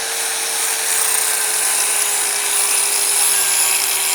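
A loud, shrill power tool whines steadily while cutting, a continuous high-pitched buzz up close with no voices over it.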